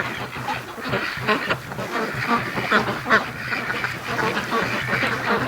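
Free-range ducks in a yard quack repeatedly in overlapping bursts, a busy flock calling close by at moderate loudness for the whole stretch.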